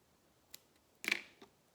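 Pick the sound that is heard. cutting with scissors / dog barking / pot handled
cutting with scissors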